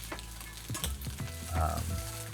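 French toast sticks frying in a cast iron skillet, a low steady sizzle with a few soft taps and shifts as the pieces are turned.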